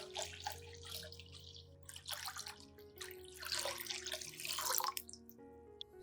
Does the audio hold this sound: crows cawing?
no